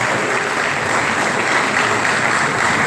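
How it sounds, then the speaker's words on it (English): An audience at a university retirement ceremony claps for a professor, a dense, loud, continuous wash of applause held steady from start to finish. "Can we welcome him very proper applause?"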